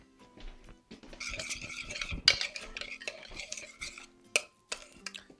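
Spoon scraping and clinking against a plate and pan while sauce is served over roasted chicken and spaghetti squash, close, irregular scrapes and taps with a few sharp clinks.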